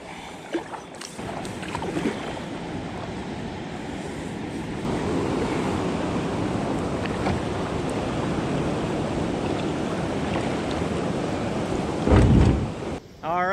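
A kayak moves along a river with a steady wash of water and wind noise, close and continuous, brief swishing paddle strokes near the end.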